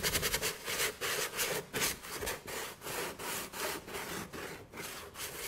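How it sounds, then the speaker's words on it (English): Hand sanding roughly over a painted surface, with steady rhythmic back-and-forth scratchy strokes, about two per second, close and fairly quiet, and no voice. "is just roughly sanding over the surface"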